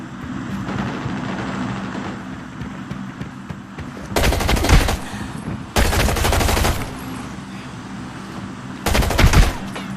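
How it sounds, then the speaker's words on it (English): Bursts of automatic gunfire in the video game Arena Breakout shoot through a door: three loud, rapid volleys of a few seconds each over steady in-game background noise. "if you hit at least some shots through the door, it gives you a big advantage"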